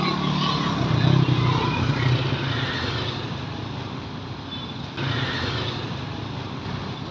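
A street food vendor's motorcycle engine idling close by, a continuous low rumbling drone that stays fairly loud and even, with a slight rise early on, while a voice talks faintly in the background.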